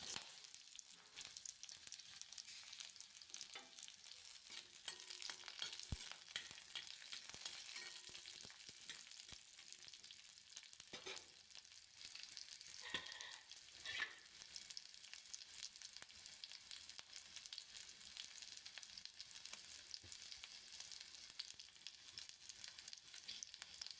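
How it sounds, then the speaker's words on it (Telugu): Onion frying with green chillies in a pan for a Telugu ridge gourd chutney, a steady close sizzle and crackle running throughout with occasional faint stirring clinks and no talk. "పచ్చిమిర్చి మగ్గిన తర్వాత ఆనియన్ వేసేస్తున్నాం"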